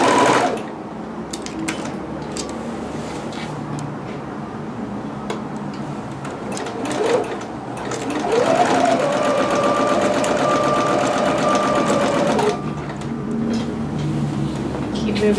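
A sewing machine runs a permanent stay stitch through dress fabric, with a fast steady ticking hum that starts and stops in short runs, and a brief mechanical whir partway through.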